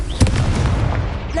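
A Confringo blasting spell detonates in Hogwarts Legacy, a loud, close burst with a sharp onset followed by a dense, rumbling roar that lingers for about a second.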